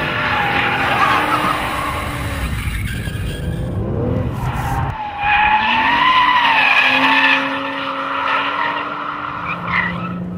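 BMW 1-series M Coupe sliding sideways, engine droning and rising in pitch with tire squeal layered over it, close and loud, easing to a lower steady note near the end.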